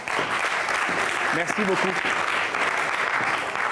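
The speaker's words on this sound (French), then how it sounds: "On vous l'applaudit bien fort s'il vous plaît." Audience applause at a French television show, steady dense clapping throughout with a host's voice briefly speaking over it.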